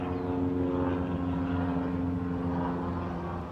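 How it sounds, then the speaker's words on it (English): A propeller airplane drones steadily overhead, a continuous tonal engine hum at constant loudness with no speech. "The plane."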